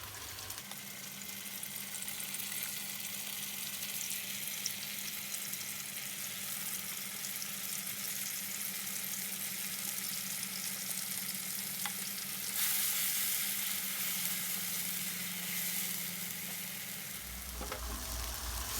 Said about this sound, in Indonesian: Ditumis bumbunya sampai benar-benar matang banget.